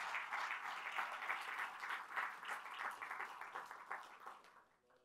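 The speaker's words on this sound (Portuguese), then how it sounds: "dê um aplauso forte para o Senhor Jesus" Church congregation applauding during a worship service, a dense, steady wash of many hands clapping that holds for several seconds before fading out at the end.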